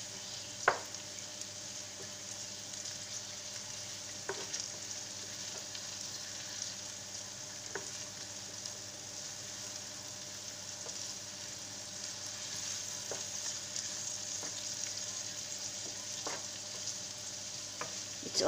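Sausage sizzles steadily in a pan for spaghetti sauce with garlic, with a continuous frying hiss broken by occasional sharp scrapes and knocks of stirring, close and moderately loud, no talking.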